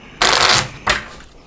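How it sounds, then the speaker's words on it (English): An Onirim card game deck is shuffled: two quick, crisp riffles of cards, the first longer and the second shorter, close and loud against a quiet background. "Now we shuffle the limbo back into the deck"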